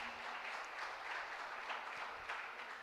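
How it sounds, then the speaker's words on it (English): An audience at a summer camp fun day applauds the children, a steady, faint wash of many hands clapping at some distance throughout. "So I think it requires a round of applause."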